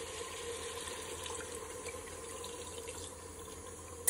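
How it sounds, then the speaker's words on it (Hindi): A cup of water is poured into a pressure cooker pot of mutton siri paya and spices, making a steady, close, tap-like splashing flow. It is fairly quiet and continuous, with a soft knock at the end. "1 कप हमने पानी डाला है।"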